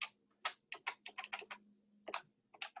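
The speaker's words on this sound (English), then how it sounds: "I hear a calculator. With a keyboard." Calculator keys are pressed in a quick run of crisp plastic clicks, then a short pause and a few more taps, close and clear over a quiet background with a faint hum.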